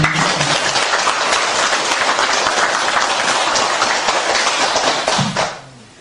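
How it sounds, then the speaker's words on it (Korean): A crowd at a Won Buddhist promotion ceremony claps in congratulation, loud sustained applause from many hands for about five seconds before it fades out. "축하의 박수"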